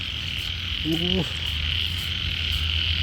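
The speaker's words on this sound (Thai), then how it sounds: "เสียงเขียดร้องครับ" A single short, throaty frog croak sounds close by during heavy rain and flooding, over a constant drone of insects and a steady wet background hiss.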